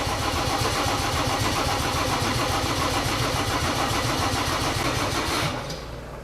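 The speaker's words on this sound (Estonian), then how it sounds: "Laeme Pulo pealt Mersu akut ja äkki läheb käima." A Mercedes OM606 diesel engine, jump-started from another car's battery, cranks and fires into a loud, steady clattering run up close, then the level drops abruptly near the end.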